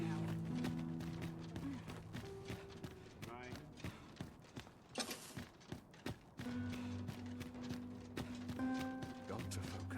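Horse hooves clip-clopping in Dragon's Dogma 2, a rhythmic run of taps fairly quiet beneath music and speech.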